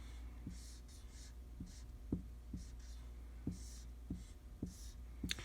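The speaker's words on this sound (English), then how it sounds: "So I have to write the word 30." A pen moves across paper writing out a number word, making quiet, close scratchy strokes in short bursts separated by brief pauses, against a faint low hum.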